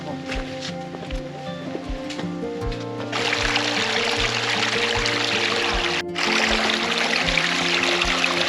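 Water pours from a mountain spring on a hike up Kostrycha mountain. A steady, close rush swells partway through and keeps running under tonal voices or music.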